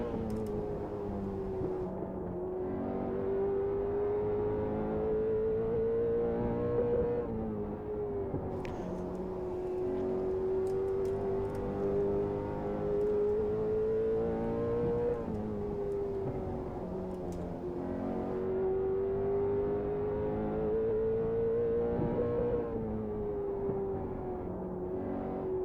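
Race car engine in a stock-car racing video game, a steady droning whine that rises and dips gently in pitch over each lap, continuous and fairly loud with no talk.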